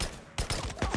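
Shotgun blasts in the Days Gone video game, about four loud booming shots in quick succession, one second of rapid fire with no talking.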